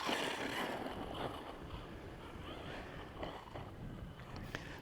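A Bezgar HP141 RC car runs at full throttle, its motor and drivetrain giving a steady, loud buzzing whine that stays high for the whole stretch with small surges, and no voices over it.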